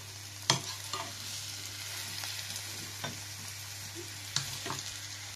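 Sliced garlic and mushrooms frying in oil in a pan, a steady close sizzle with occasional clicks and scrapes of stirring, no voices.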